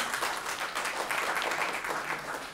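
An audience claps for a chief guest at a staged presentation event, a continuous moderate wash of applause heard from a distance, fairly even throughout.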